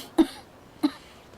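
A young woman with a cold coughs twice, about half a second apart, each a short close-up burst followed by quiet.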